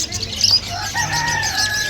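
Pigeons and doves flap their wings close by in a couple of brief, busy flurries, with soft fowl-like clucks and calls mixed in. No one speaks.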